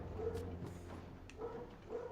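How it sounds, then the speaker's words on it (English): A pet dog barks a few times indoors, short bursts spaced apart and fairly faint, with a low steady background hum. "he's probably barking at the neighbors"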